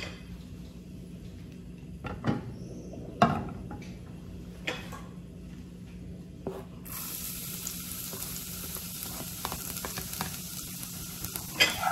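Garlic cloves fry in a shallow layer of oil in a pot, a steady low sizzle with occasional spatula scrapes and clicks, growing brighter and hissier in the second half; no one talks.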